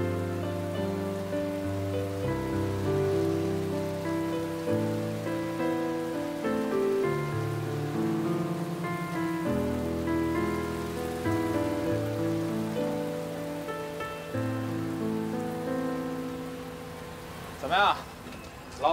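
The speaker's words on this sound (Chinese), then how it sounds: "下雨" Steady rain falls outdoors as a continuous soft hiss beneath music that plays throughout, with a brief louder burst near the end.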